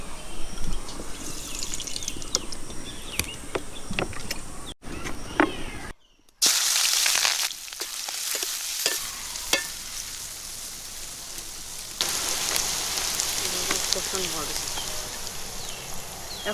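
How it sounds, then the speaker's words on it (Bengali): Oil heating and frying in a hot kadai during home cooking of a curry, a soft steady sizzle with clinks and stirring noises, briefly interrupted by a loud burst of hiss partway through. "এখন আমাদের কড়াইটা হিট হয়ে গেছে,"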